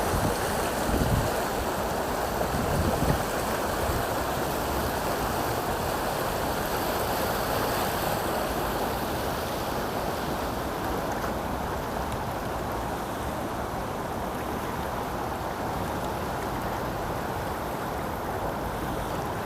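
A large stream in a village near Busan runs swollen after heavy rain, giving a steady, loud wash of flowing water that holds evenly throughout with no voices.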